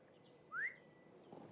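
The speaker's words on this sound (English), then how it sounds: "Interesting that you hear these bird sounds where it seems like would be no bird sounds" A single short rising bird whistle in the fantasy game LOTRO, clear but faint over a quiet ambient background.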